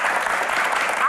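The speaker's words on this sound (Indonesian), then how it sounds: "Langsung saja kita berikan tepuk tangan yang paling meriah untuk panelis kita di edisi spesial ini" Studio audience applauding for a panel on a special-edition talk show, a brief dense wash of clapping at steady loudness.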